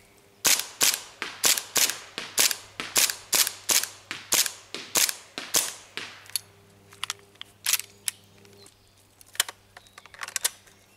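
Airsoft replica gun firing outdoors while magazines are emptied, a fast regular run of sharp snapping shots followed by more scattered, irregular shots, close and alone.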